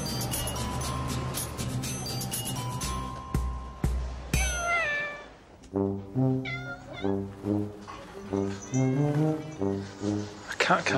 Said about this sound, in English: You pay to come and pet cats.